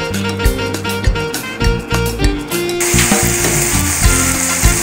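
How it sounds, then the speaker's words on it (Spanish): Bacon frying in a little oil in a pan, a steady crackling sizzle running throughout beneath loud tonal background music. "Acabo de poner el tocino aquí en aceitito para que se fría."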